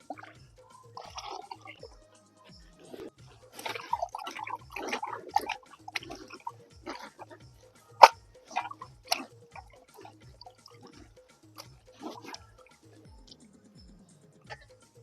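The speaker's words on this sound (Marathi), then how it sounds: "मटण आपण हे धुवून घेऊ मस्त" Raw mutton being rinsed by hand in water, with sparse wet drips, splashes and squelches, faint and close, plus a few sharper knocks and quiet gaps.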